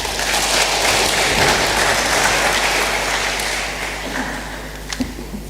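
Audience in a lecture hall applauds the Chancellor at a Belt and Road Initiative public lecture: dense, sustained clapping from a large crowd that stays steady, then thins and fades toward the end.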